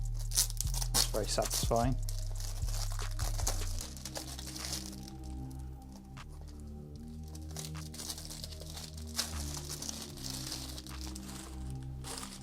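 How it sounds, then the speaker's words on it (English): Nintendo Switch game packaging being unboxed, with close crinkling and tearing of plastic wrap and cardboard, busy at first, then quieter rustling; a person speaks briefly. "So I'm going to unbox these games."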